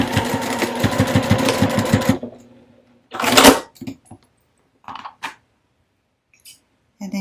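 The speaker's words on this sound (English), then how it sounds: "then using a 1/4 inch stitch right across those raw edges." Close, loud sewing machine stitching runs for about two seconds, sewing a quarter-inch seam across raw fabric edges for a small earbud case, then stops, followed by scattered handling clicks and rustles.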